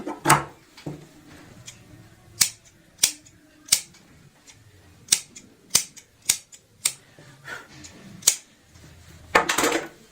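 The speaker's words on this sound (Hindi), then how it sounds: "एक्स्ट्रा कपड़ा काट लेंगे" Scissors snip off excess fabric while a hand purse is sewn at home. About a dozen sharp, separate cuts come at an uneven pace, close and clear. The quiet between cuts has no talk.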